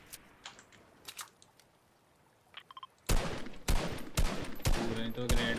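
Gunfire in the Fortnite battle royale game, starting with a few faint distant pops, then a loud sustained burst of rapid shots close by.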